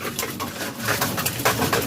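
Pigeons coo in a loft, with several soft, low, throaty coos repeating close by over a short stretch and no clear talk.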